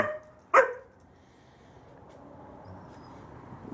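A single sharp dog bark rings out nearby at a garage where a 1929 Chrysler is being worked on, followed by quiet background hum.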